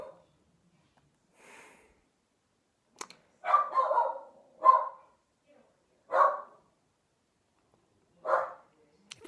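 A dog barks several times in separate short bursts with pauses between, fairly close, some sniffing and snorting in the quieter gaps.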